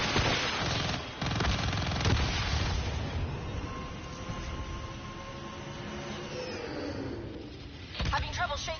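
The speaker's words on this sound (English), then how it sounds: "We're taking heavy fire over here." A PS4 video game battle rattles with sustained rapid gunfire, dense volleys and booms rolling on for several seconds and then easing before a final burst.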